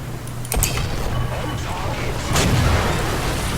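In War Thunder ground battles, a tank shell glances off the player's armour with a sharp metallic crack and a second heavy impact a couple of seconds later, both fairly loud over steady engine rumble, with talking in the background.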